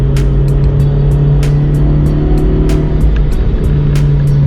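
Honda CR-Z with a turbocharged 1.5-liter engine on Falken tires, driven hard into a corner: a loud steady engine drone with a rhythmic series of sharp ticks and clicks, close and continuous.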